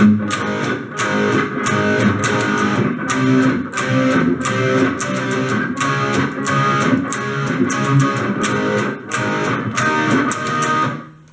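A distorted electric guitar plays part 2 of a song, strummed in a steady down-up rhythm with regular accented chord hits over a full, loud band-like tone for about eleven seconds.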